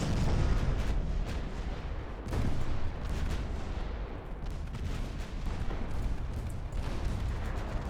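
Naval guns firing armor-piercing rounds in the strategy game Ultimate Admiral Dreadnoughts, a dense, continuous rumble of distant booms and overlapping shell blasts without a pause.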